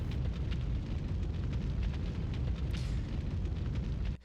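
Helicopter crash in the Resident Evil 2 video game, a sustained roaring explosion with heavy low rumble and crackling debris bursts, loud and close throughout before cutting off abruptly at the end, with no talk.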